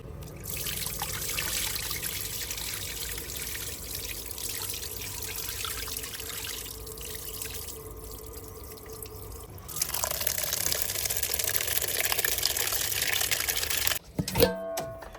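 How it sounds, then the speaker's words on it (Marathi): Soaked wheat grains are rinsed and swished in water, a continuous close trickling and sloshing that runs the whole time and grows louder midway, then breaks off into a few brief knocks near the end. "गहू चांगले भिजलेले स्वच्छ असं धुवून घ्यायचे"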